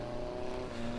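A Formula Offroad car with a 2.4 liter Honda engine at an Icelandic off-road event, a brief faint engine drone with a sustained tonal whine shifting pitch slightly, heard from a distance.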